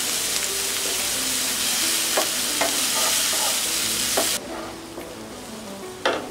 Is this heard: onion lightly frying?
yes